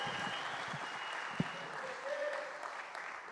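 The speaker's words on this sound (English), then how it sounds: "please, a round of applause for Kit Cummings" Audience applause for Kit Cummings at a fundraiser, a steady wash of clapping that stays fairly faint and even throughout, with a single sharp knock partway through and no voices over it.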